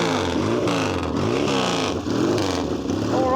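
A motorcycle engine revs hard and pulls away, its loud, continuous roar rising and falling in pitch as it accelerates through the gears, heard close with no talking.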